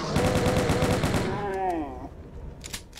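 Rapid, rattling weapon fire from a rocket launcher in a modded Doom game, fighting Mancubi, pounds in quick repeated bursts. A warbling, descending tone and a few distant hits follow.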